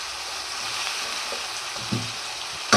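Onions frying in a pan for a Tamil feast dish, a steady broadband sizzle running throughout, with a few soft stirring knocks and a sharper scrape right at the end.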